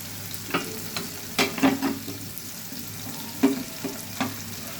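Tomato pieces softening in a pan for a tomato egg curry, with a low steady sizzle broken by several short scraping stirs of a spoon against the pan, close by and with no voices.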